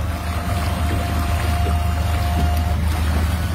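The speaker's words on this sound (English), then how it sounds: "Trim motor up and down." The outboard trim motor on a 2008 Yellowfin 17 skiff tilts up and down, giving a steady electric whine over a loud, constant low rumble from the boat, and the whine cuts off near the end.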